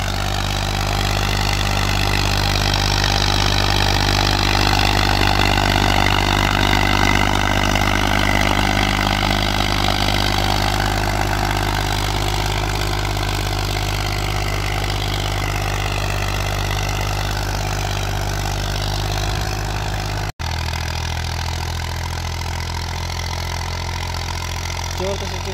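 A 1991 Massey 35 tractor engine labours pulling a cultivator through a long-untilled field, a loud continuous diesel drone that holds steady for the whole stretch, with a brief click near the end.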